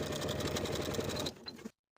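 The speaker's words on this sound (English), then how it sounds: "I'm going to sew that crotch curve with a 1/2 inch seam allowance." A sewing machine stitches a crotch seam on pants, a fast, even, close whirring hum that runs steadily, then slows and stops abruptly into silence.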